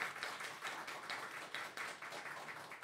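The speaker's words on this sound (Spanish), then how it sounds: "Un aplauso." Faint, soft applause from an audience at a music competition semifinal in Argentina, quick scattered clapping over a few seconds, distant and quiet.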